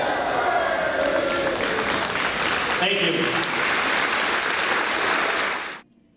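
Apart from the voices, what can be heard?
audience applause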